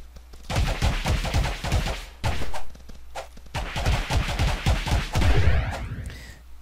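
Snout beetles fire shots in the video game Cube World as dense bursts of rapid crackling blasts, loud and close, with brief gaps and a fading tail at the end.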